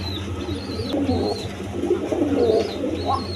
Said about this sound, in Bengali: দর্শকবৃন্দ এখানে এক পেয়ার অ্যারাবিয়ান কোকা কবুতর আছে, দেখেন ওই যে মাদিটা ডাকতেছে